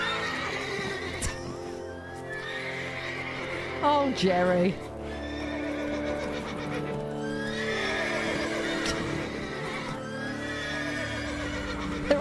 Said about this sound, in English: They're all so mad.